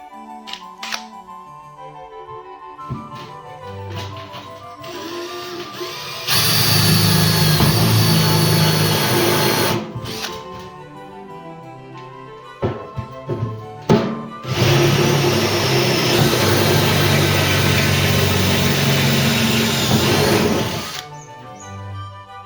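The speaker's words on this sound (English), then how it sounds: "it needs a hole drilled right there, so I've got the medium-sized drill bit and we're going to give that a try, see if it drills through it" A medium-sized drill bit bores into the metal barrel of a barbecue in two loud, sustained whirring bursts, separated by short pauses filled with clicks and handling knocks.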